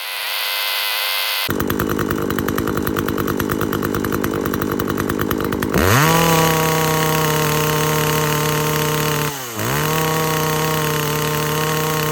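A SHIN KOMI TSK40016Z 40cc two-stroke chainsaw undergoing a carburetor test starts with a buzzing idle, then revs up to a loud, steady high-pitched whine with one brief dip and recovery, close up with no voices.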